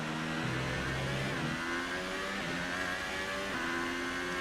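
Formula 1 race car engines whine and rev at the Baku circuit in the F1 2018 video game, with steady high-pitched drones shifting through several gear changes, moderately loud and uninterrupted by talk.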